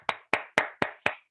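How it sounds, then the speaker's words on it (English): Five separate hand claps at an even, steady rhythm, each crisp and close with a short decay, from a single participant applauding the speakers at an online Toastmasters club meeting. "Great, a huge round of applause"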